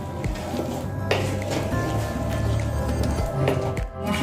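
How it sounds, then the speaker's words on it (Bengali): Ground coriander and chili paste with a splash of water, stirred and frying in a pan for potol chingri, giving a steady close sizzle with soft scraping and squishing of the spatula throughout. "দিয়ে ভালো করে আমি মশলাটা কষিয়ে নেব।"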